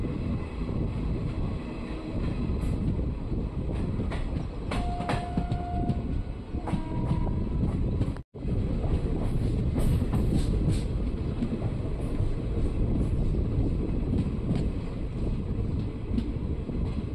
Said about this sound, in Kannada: ನಮ್ಮ ಟ್ರೈನ್ ಈಗ ಇಂಡಿ ರೋಡ್ ರೈಲ್ವೆ ಸ್ಟೇಷನ್ಗೆ ಎಂಟ್ರಿ ಆಗ್ತಿದೆ.